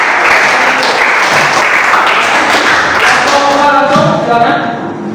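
A classroom of eighth-grade students claps together in a dense, loud burst that stays steady and fades slightly at the end, with a few voices mixed in underneath.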